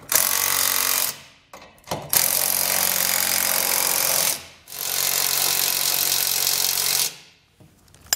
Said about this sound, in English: we're going to use a 19mm socket and wrench to snug those bolts up